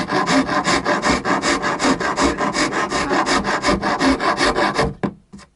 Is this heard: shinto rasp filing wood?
yes